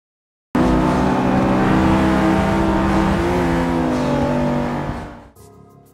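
A Honda Civic Type R engine revs hard and high toward about 9,000 RPM, a loud, sustained rising whine heard up close for several seconds before dropping off, with no talking.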